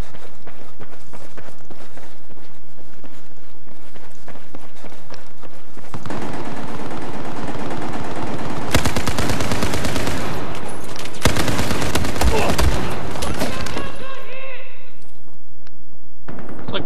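Light machine gun fire in Battlefield 4, heavy bursts of automatic shots breaking in midway and hammering loudly for several seconds, with a quieter stretch of game noise before and fading after.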